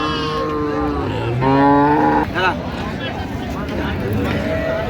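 Dairy cows moo amid the busy Raniganj cattle market in Dinajpur, Bangladesh, one long low moo standing out over the chatter of people talking nearby.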